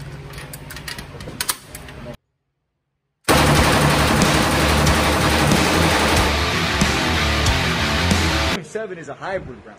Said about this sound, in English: he just gave us a demonstration of how to shoot the guns